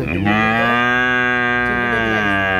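At a busy cattle market in Cumilla, a cow lets out a long, loud, close moo that fills nearly three seconds.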